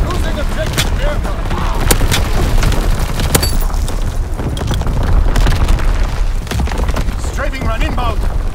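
Artillery barrage explosions in the World War II shooter Call of Duty: WWII, a dense run of booms and gunfire blasts rolling continuously over loud battlefield din, with game radio voices talking over them.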